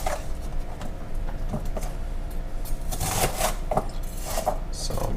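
A knife chops onion into big chunks on a board, making a scattering of close, irregular taps and thuds over a steady low background rumble.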